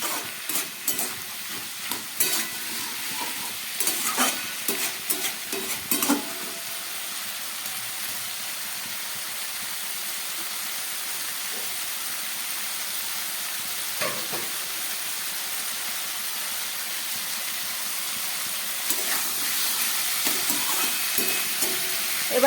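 Cumin and coriander powder spices sizzle in a pan over turned-up heat for a bottled gourd dish, a steady hissing fry broken by occasional stirring scrapes and clatters, louder near the start and end.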